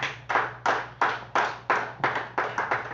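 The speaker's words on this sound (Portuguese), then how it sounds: "Bate palmas bem alegre para Jesus" A church congregation claps in unison for Jesus, about ten sharp, evenly spaced handclaps in a steady rhythm, close and clear with no talk over them.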